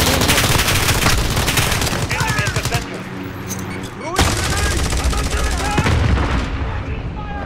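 Rapid, loud gunfire rattles through a Call of Duty: Modern Warfare match, dense bursts with a brief lull in the middle before the shooting resumes, and voices talk over it.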